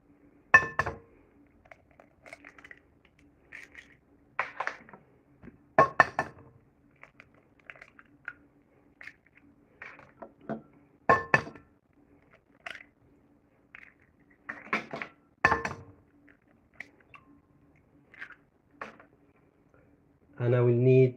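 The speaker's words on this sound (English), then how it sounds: "I'm gonna crack 4 eggs." Eggs cracked one after another against a glass bowl, several sharp clinks and cracks spaced apart, close up, with a few soft handling noises between them and a louder clatter at the end.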